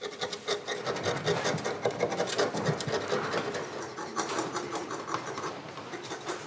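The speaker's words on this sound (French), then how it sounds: "Les maîtres verriers doivent nettoyer les carreaux un par un." Close, continuous scrubbing and rubbing strokes come from cleaning stained glass panes of a rare glass roof one by one, a dense rhythmic rasp with no talking.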